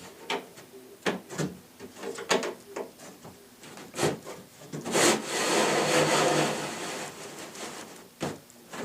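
A wooden lazy Susan part for a ready-to-assemble kitchen cabinet slides down into milled channels with knocks and scraping rubs, swelling into a sustained grinding slide, then a final bump.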